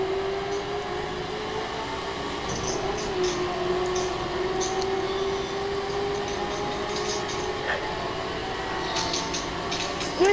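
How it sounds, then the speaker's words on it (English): A train rumbles past steadily with a sustained tonal drone and faint squeals in The Crew racing game, ending just as it strikes a car. "Got hit by a train on my car."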